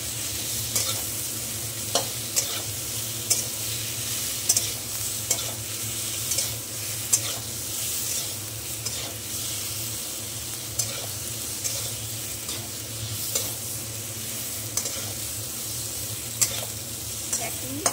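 Ground spice paste frying in a pan for a fish curry, a steady low sizzle under repeated soft spatula scrapes and taps spaced every second or so, no voices.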